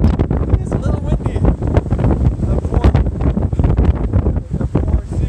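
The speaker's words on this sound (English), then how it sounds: "It's a little windy." Strong wind on a stormy day at the beach buffets the microphone in a constant loud roar, with surf and water rumbling underneath throughout.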